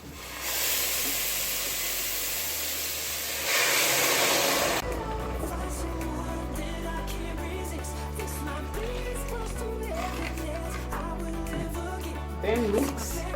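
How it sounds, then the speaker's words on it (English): A loud steady hiss of hot water poured onto rice frying in oil fills the first few seconds, then gives way to softer sizzling and stirring under talk. "Then now we add our hot water."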